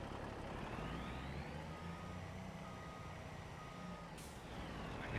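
A truck in Farming Simulator 25 reverses with faint, steady, evenly spaced beeps under a low engine drone, alone without talk.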